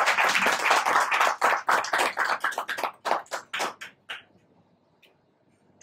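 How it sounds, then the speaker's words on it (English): Audience at a vegan society's 29th anniversary celebration claps in a loud burst of many hands, tapering into scattered individual claps and fading to quiet near the end. "So a big round of applause for each one of you."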